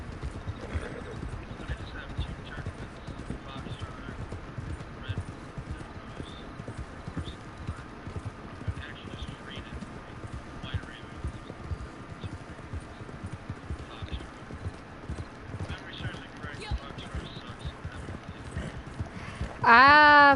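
Horse hooves clip-clop steadily in Red Dead Online, with a whinny and a loud, bright burst right at the end.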